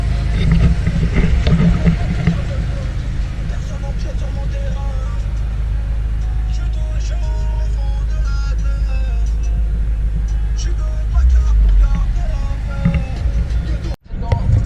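Steady, loud, low engine rumble from a BMW M6 F13 with its 4.4-litre, 600 hp V8 and competition pack, idling close by and nearly unbroken, with a brief dip near the end.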